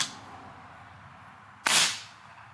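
A single sharp shot from an Umarex Komplete NCR air rifle fitted with a Notos cylinder, a close, loud burst with a brief decaying tail after a stretch of quiet.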